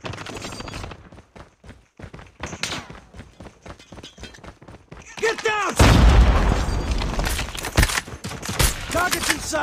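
Frag grenade blast in Call of Duty Mobile amid rapid game gunfire, a loud boom arriving midway and followed by dense crackling shots and explosions, with voice lines from the game over the action.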